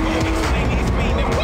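A car drifting in the video game Need for Speed: Hot Pursuit, with a loud racing engine and sustained tire squeal across the whole stretch, under game voices talking.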